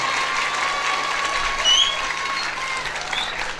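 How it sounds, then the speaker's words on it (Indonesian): An audience applauds at a Quran memorization event, sustained dense clapping from many hands with a little crowd noise and a brief cheer mixed in, loud and continuous. "Beri tepuk tangan untuk Saudara Abraham."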